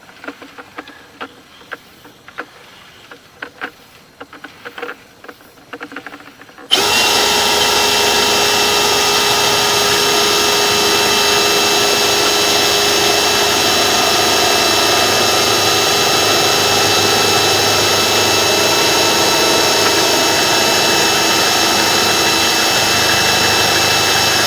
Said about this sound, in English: we just finished scraping out that pipe with the chain knockers on our flex shaft